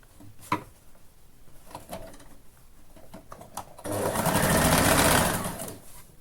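A domestic sewing machine runs a short burst of stitching along the back neck seam of a garment with circular sleeves, loud and steady after a few quiet clicks and handling taps.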